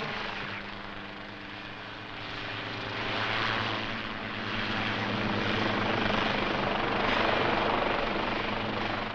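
A helicopter drones steadily overhead, its rotor chop and engine roar filling the air, swelling slightly louder midway and staying strong to the end.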